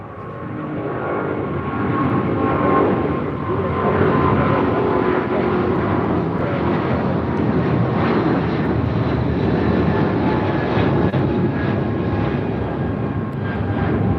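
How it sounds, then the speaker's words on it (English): A United Airlines Boeing 777-200ER takes off from LAX, its twin jet engines producing a loud, sustained roar with a slowly shifting tonal whine, steady and powerful throughout, heard from nearby with no talking. "This is United Airlines 1635 taking off to Washington Dulles on a 777-200ER."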